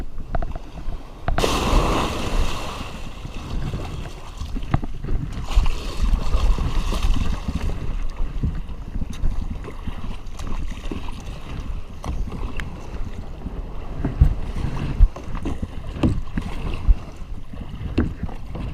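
Kayak paddled out through ocean surf at a beach, with broad washing water and wind noise, rhythmic splashes and a louder surge early on, all moderately close.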